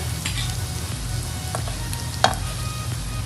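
Onions sizzle steadily in a pan as masala, black pepper, coriander powder and salt are stirred in, with a constant close frying hiss and a few soft scraping stirs, one sharper clack near the end.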